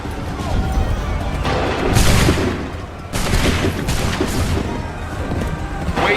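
Musket volleys from a line of soldiers in Assassin's Creed III, two loud crackling fusillades roughly a second apart with ragged scattered shots between, while commands are shouted nearby.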